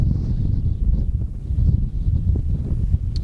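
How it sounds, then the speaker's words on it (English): Strong wind roars and buffets the microphone in heavy, uneven gusts, a loud continuous low rumble, during the Boulder County wildfires in December 2021. "The sound of that wind whipping through certainly is a fearsome sound."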